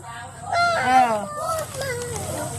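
A duck quacks loudly and close by in a run of nasal, honking calls, heard alone without talk.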